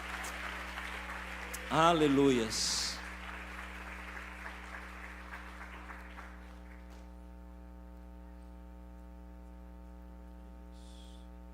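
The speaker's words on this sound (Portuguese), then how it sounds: "Dê uma salva de palmas para Jesus" A church congregation applauds briefly, a short burst of clapping mixed with shouted praise, then the room settles into a steady electrical hum; a voice calls out over the clapping.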